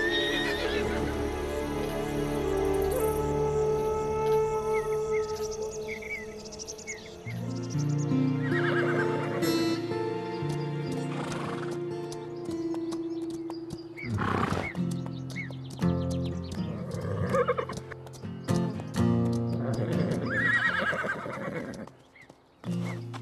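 Frightened horses neighing and whinnying loudly, then hooves clattering as they gallop away amid music in a dramatic adventure scene.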